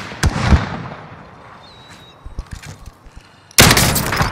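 Hostile gunfire in Call of Duty: Modern Warfare comes as sharp bursts of shots near the start, then scattered quieter pops, and a loud dense volley breaking out at the end.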